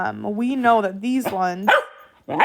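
A dog barks indoors in short bursts close by, partly under a person's steady explanatory speech.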